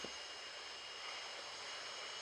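Steady airplane engine drone from a flight simulator game as the aircraft descends, a continuous broadband hum with no talk over it.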